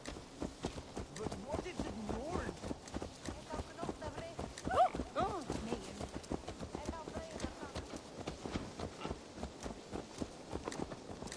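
Horse hooves clip-clop at a steady walking rhythm in the video game Assassin's Creed Valhalla, fairly close, with voices talking over them.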